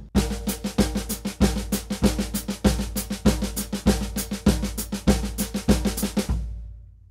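Rapid alternating single paradiddle strokes on a drum kit over a steady repeating bass drum ostinato, even and close, stopping with cymbal ring fading out.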